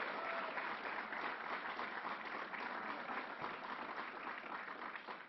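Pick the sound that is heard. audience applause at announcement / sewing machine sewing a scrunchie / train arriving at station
audience applause at announcement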